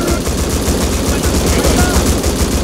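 Loud, rapid gunfire from the survival game Rust crackles in dense, overlapping bursts of automatic fire. The shots come near and continuous, with shouting voices partly mixed beneath them.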